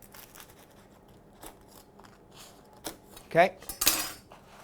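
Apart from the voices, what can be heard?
chopping burger buns in half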